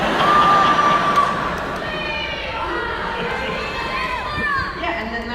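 A comic convention audience cheers and shouts as one sustained crowd roar, with a voice speaking over it.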